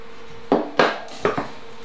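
A spoon knocks against a pot of minestrone soup with pearl barley being stirred, three or four sharp close knocks and scrapes in quick succession over a quiet kitchen background.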